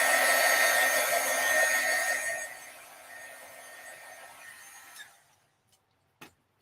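A heat tool blows over peeled paint on a stamp, a loud steady whooshing hum that fades after a few seconds and cuts off, followed by near silence and a sharp tap at the end.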